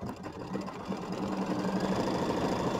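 An embroidery sewing machine stitching tack-down lines on a quilt, a continuous rapid mechanical whir and needle clatter at moderate volume, steady throughout with no talk.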